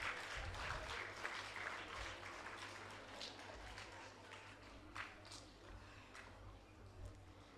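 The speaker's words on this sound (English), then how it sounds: "I request everyone to give an applause for the winners." Applause from a quiz audience for the winners, many hands clapping steadily at moderate volume, with a low hum running underneath.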